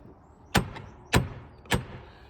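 Three evenly spaced solid knocks on a church door, each a sharp wooden rap with a short echo, near and distinct against quiet surroundings.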